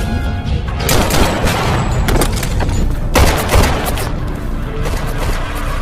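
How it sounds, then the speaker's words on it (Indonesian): Gunshots in a movie action scene, a dense barrage of loud booming shots and bursts over a busy, noisy soundtrack, rapid and continuous throughout. "Suara tembakan tersebut membuat Roman akhirnya sadar kalau John sudah tiba."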